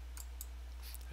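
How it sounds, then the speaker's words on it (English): A computer mouse clicks during a StarCraft II match, giving a few faint, sharp clicks spaced irregularly over a steady low hum. "I don't know if you heard my mouse clicking"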